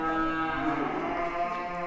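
A giant cow on a farm lets out one long, drawn-out moo, close and clear, with a steady low tone and no talking over it.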